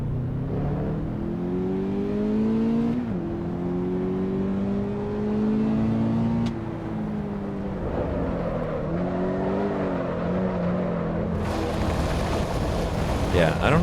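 Toyota GR86 in the racing game Assetto Corsa EVO, engine revving up and down in repeated rising and falling sweeps, loud and near, with a brief hiss of noise near the end.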